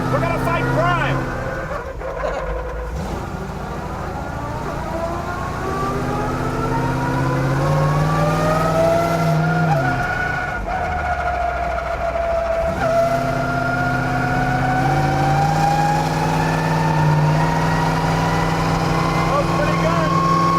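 Batman Tumbler vehicle engine fitted with straight-cut gears, a loud continuous drone with a rising and falling gear whine as it drives, heard close up under people talking.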